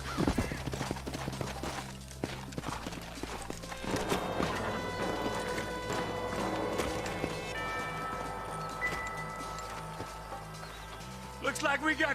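Horses' hooves clip-clop in Red Dead Redemption as a steady rhythm under music and game talk, with a brief louder burst of activity near the end.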